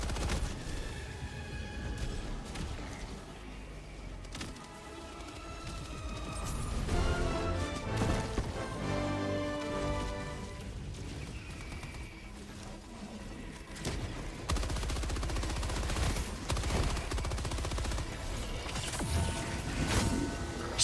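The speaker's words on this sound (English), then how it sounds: "Oh, I think you were shooting at me." Steady video game gunfire with crashes and mechanical clatter, continuous and fairly dense throughout, mixed with game noise and no talk.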